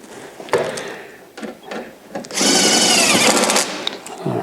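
A power driver spins screws into a Santa Fe Compact2 dehumidifier during a defrost thermostat replacement. There is one long, loud whir with a couple of shorter bursts and clicks around it.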